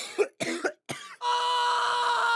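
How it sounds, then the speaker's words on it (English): A sick person coughs three times in quick succession, close and fairly loud, followed by a steady humming tone that continues to the end. "coughing a little bit"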